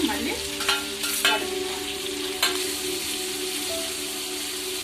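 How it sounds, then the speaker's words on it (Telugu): Cut onions go into hot oil for a chicken fry, a bright steady sizzle punctuated by a few clanks and scrapes of a spoon stirring the pan up close. "కట్ చేసుకున్న ఉల్లిపాయలు ఇలా వేస్తాను అవి మగ్గాలి"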